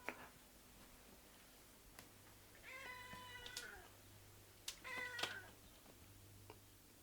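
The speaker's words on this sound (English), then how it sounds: "They both heard a cat in the forest." A cat meows in a forest, two clear drawn-out calls a couple of seconds apart, moderately close over a quiet background with a steady low hum and a few faint ticks.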